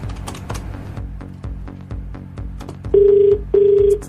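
A steady electronic telephone ring tone sounds in two short bursts near the end, after several seconds of clicking, tapping noises like keys being pressed.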